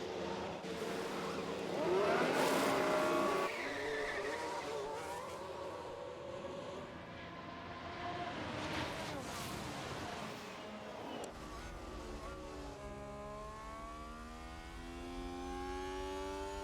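Red Bull and Ferrari Formula 1 cars in a racing video game make a pit stop, with a continuous engine whine and revving that rises and falls in pitch and is heard steadily at moderate volume.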